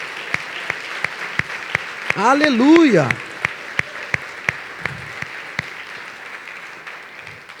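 A church congregation claps in a steady, fast rhythm of sharp, evenly spaced hand claps. Midway, a loud voice rises in a sung shout over the clapping, and the clapping carries on after it.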